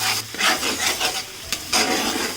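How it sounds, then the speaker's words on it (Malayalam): Onion and ground paste sauté in a cast iron pan, giving a loud, close sizzle broken by bursts of scraping as the mixture is stirred, with no voices. "നമ്മൾ ഈ അരച്ച് വെച്ചിരിക്കുന്ന പേസ്റ്റ് ഉണ്ടല്ലോ അത് ഇതിലേക്ക് ഇട്ടിട്ട് വഴറ്റി കൊടുക്കണം"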